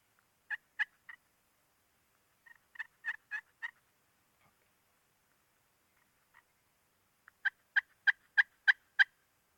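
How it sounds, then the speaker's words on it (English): Wild spring turkeys gobble in a remote outdoor setting, coming in short bursts of rapid notes separated by quiet gaps, with a louder, closer run of six or seven gobbles at the end. Soft clucks from a hen are mixed in. "There's a hen clucking in there too."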